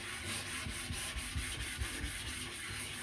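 A knife, such as a Kizer SLT folder or CCK Chinese cleaver, being sharpened on an Ohira medium hard natural whetstone, with quiet, rhythmic rasping strokes back and forth at close range and no voices.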